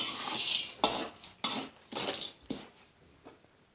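Corn kernels roasting in a pan of salt over high heat are stirred in about five rhythmic strokes. Each stroke gives a gritty scrape and rattle of salt and kernels against the pan, and the strokes fade toward the end.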